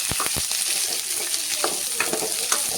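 Tender drumstick (moringa) pieces and softened onion frying in a pan for a jackfruit seed dish, a continuous close sizzle with scattered stirring scrapes and clicks throughout.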